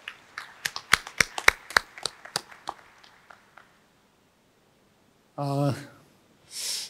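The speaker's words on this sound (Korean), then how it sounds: "선생님께도 큰 박수로 환영해 주시면 감사하겠습니다" Applause at a Korea University faculty retirement ceremony greeting a retiring medical school professor: a short burst of sharp, close claps that thins out over a few seconds, then silence and a couple of brief voiced sounds.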